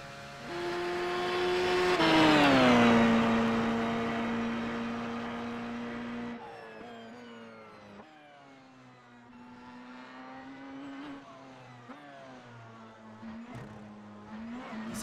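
Porsche 919 LMP1 race car in the iRacing video game, a steady high engine whine that climbs and falls with gear changes through the esses, heard clearly and without talk throughout.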